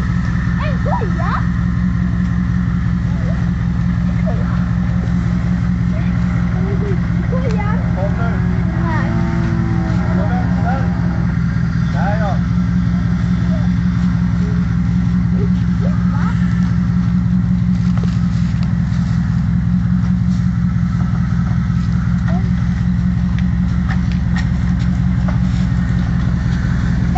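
Jeep Grand Cherokee ZJ engine driving on a slippery surface, a loud continuous low rumble close by with rattles on top, and people talking over it throughout.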